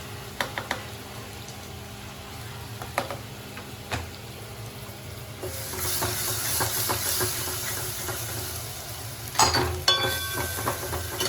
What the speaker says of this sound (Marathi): आता याच्यात आपण हे कांदा खोबऱ्याचं वाटण टाकू